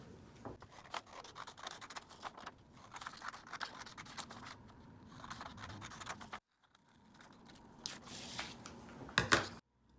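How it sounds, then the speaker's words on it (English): Scissors snip and slide through fabric in repeated close cuts, with soft rustling between strokes and a short pause before a final flurry of snips. "We're going to start by cutting out our pattern pieces."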